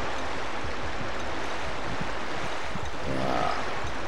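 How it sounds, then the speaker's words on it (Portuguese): Water rushes and flows steadily in Clock Tower 3 on PS2, a continuous broad, close wash with a faint brief tone near the end and no voices. "barulho da água aqui no meio"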